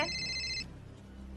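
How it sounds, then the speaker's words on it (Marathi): A phone rings with a bright electronic ringtone for about half a second, then cuts off, leaving quiet room tone. "राधिकाचा फोन आहे."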